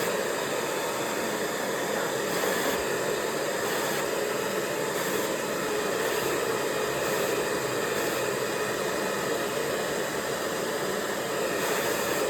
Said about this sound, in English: I'm going really tightly into the roots with the dryer